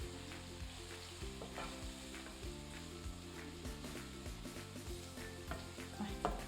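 Coconut stirred into a hot pan gives a faint, continuous sizzle with soft, even stirring scrapes throughout.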